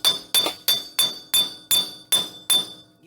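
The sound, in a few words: hammering Toyota Tacoma wheel bearing loose from hub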